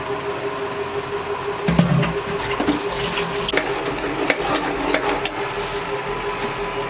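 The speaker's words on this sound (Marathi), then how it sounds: "आता आपल्याला पाहिजे असेल ना तेवढं पाणी घालून घ्यायचंय" Water is poured into a pot of Malvani tomato saar as it cooks, a running, splashing flow near at hand with a few sharp clinks of utensils mixed in.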